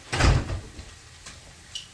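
A door is opened nearby with a single brief thud and rattle of the handle and hinge, followed by quiet room tone and a couple of faint later taps.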